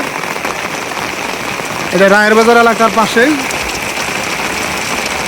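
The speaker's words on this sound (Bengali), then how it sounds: "দেখেন কি পরিমাণ বৃষ্টি হচ্ছে" Heavy rain pours down on a rooftop garden in Dhaka in a steady, loud hiss, with someone briefly speaking over it midway.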